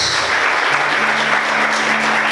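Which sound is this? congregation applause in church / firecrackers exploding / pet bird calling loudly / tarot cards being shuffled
congregation applause in church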